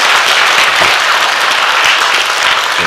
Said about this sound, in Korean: 자, 남자 성도님들 박수 좀 한번 쳐주세요.